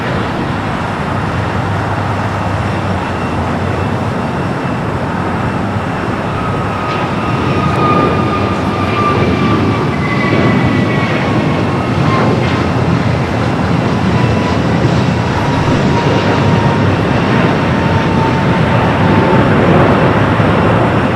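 An airliner in Stars and Stripes livery at LAX gives off a continuous distant engine roar with faint whining tones gliding downward, growing slightly louder toward the end.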